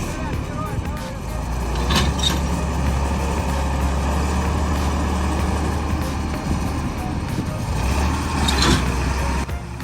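A heavy Belarus T150 tractor strains to drag a trailer out of deep swamp mud, its engine droning loud and steady with surging revs and brief clanks throughout.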